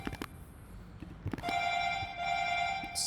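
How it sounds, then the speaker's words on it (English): A telephone rings nearby. A few soft knocks come first, then a steady, tonal electronic ring starts and holds for the rest of the clip, fairly loud and with no speech over it. "the phone is going"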